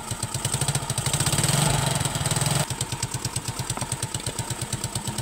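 A Honda XRM 125 motorcycle engine fitted with a 4-pin CDI runs close by, revving briefly and then dropping to a steady, rhythmic putter at idle.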